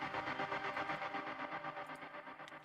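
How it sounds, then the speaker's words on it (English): A tonal ambience sample from a metal-production sample pack: a sustained, effected pad with a pulsing, wavering texture and distorted echo tails, played alone without any beat. "This is tonal ambience, which is also in the sample pack."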